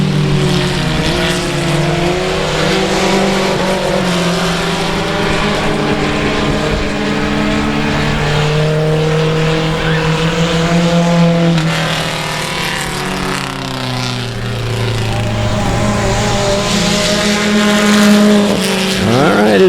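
Stock race cars roar around South Texas Speedway in a tight pack, several engines droning loud and continuous with overlapping pitches that rise and fall as they run nose to tail, no voices.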